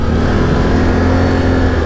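Quad bike (ATV) engine while riding on a road, a loud, close, steady low rumble with a constant drone and no voices.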